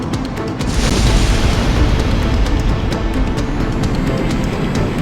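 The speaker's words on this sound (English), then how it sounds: "Cannon firing!" A video-game cannon fires with a deep, loud boom that rolls into a sustained rumbling roar, filling the whole stretch without letting up.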